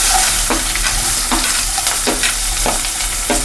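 Onion, garlic and ginger fry in a pan for matar paneer, hissing steadily as a spoon stirs with a few soft, regular scrapes close by.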